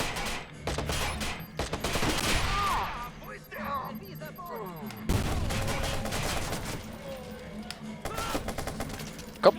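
Gunfire in the video game Watch Dogs rattles in dense, sustained bursts with crashes and impacts throughout, loud and continuous, while a German-speaking player talks over the shooting.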